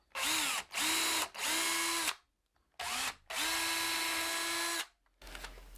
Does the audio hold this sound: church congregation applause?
no